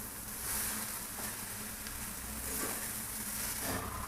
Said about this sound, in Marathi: भाजीला हलून घ्यायचं